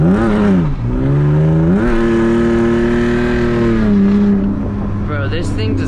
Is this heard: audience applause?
no